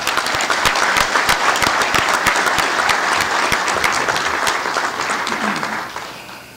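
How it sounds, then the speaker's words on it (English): Applause for a department president at a legion convention general session, a large crowd clapping loudly and steadily before fading at the end. "Let's give the Department President another big round of applause"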